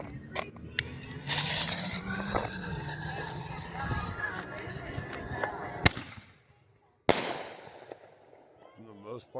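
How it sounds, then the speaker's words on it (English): Standard ball shells from an American Soul Magnus firework set burst in a loud, dense run of crackling explosions, then a sharp final bang and brief silence before another burst and fading crackle, with faint voices in the background. "You guys get the ideas of ball shells."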